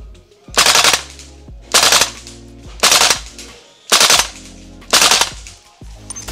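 VFC AK-74M gas blowback airsoft rifle firing five short full-auto bursts, each a sharp rapid rattle of clacking shots, loud and close, separated by brief pauses with no talking.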